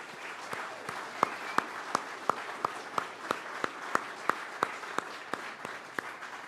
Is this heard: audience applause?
yes